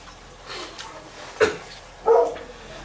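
Two short dog barks ring out a moment apart, somewhat distant, over a quiet lecture room with faint murmuring.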